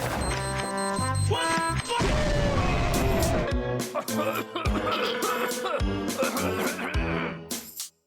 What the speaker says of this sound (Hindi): अब धमाका होने वाला है